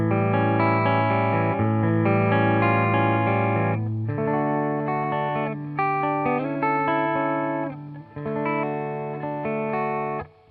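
Clean PRS Custom 24 electric guitar through a Fender Deluxe Reverb amp, sustained ringing chords changing every few seconds with a slight shimmering movement, steady and moderately loud, no voices.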